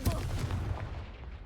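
A Confringo spell blast in the video game Hogwarts Legacy, a deep booming explosion with a rumbling tail and scattered crackles, close and loud, with a voice partly underneath.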